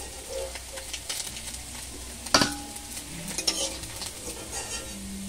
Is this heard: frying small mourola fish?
yes